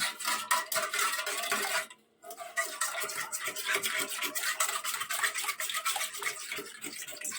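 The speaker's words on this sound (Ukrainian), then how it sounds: "Небагато і взбиваю вінчиком" Eggs seasoned with salt and pepper are beaten with a wire whisk in a bowl: a fast, steady scratchy clatter of metal against the dish that stops briefly, then resumes at the same brisk rhythm.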